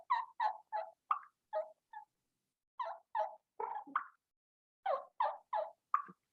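A turkey call produces soft, clear hen yelps, imitating a turkey hen, in short rhythmic runs of three to five notes separated by brief pauses, close and clean with no talking.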